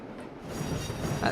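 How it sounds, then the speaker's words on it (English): A train in the Trainz: A New Era game on the Settle and Carlisle route coasting into a platform, a quiet steady rolling rumble that swells slightly, with a brief high squeal near the end. "Now I feel like just cruising the train into this."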